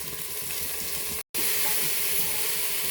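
Chopped eggplant and softened tomatoes fry in a pan for vaangi pulao, giving a steady, even sizzle and hiss that cuts out for a split second midway, then resumes at the same level.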